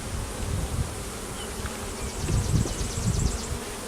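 Dense, steady buzzing of many honeybees close by in the brood nest of a hive, a continuous droning hum with no voices.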